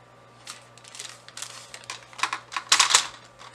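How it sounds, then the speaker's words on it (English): A cutter slicing through the bottom of a brown paper grocery bag, heard as a close series of dry, crisp scrapes and crinkles that grow louder and denser toward the end, with no talking. "Just cut this bottom piece off right here."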